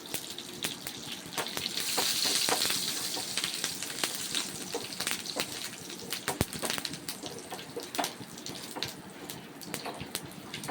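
Tempering seeds and curry leaves crackle and sizzle in hot oil in a pan, a steady wet hiss with scattered sharp pops running close and continuous throughout.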